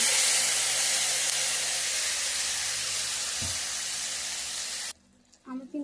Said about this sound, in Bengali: এবারে গরম কড়াইয়ের মধ্যে মাংসটা ঢেলে দেব।